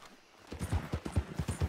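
Horse hooves clip-clopping in Red Dead Redemption 2, a steady rhythmic series of close, clear hoof beats picking up after a quiet start.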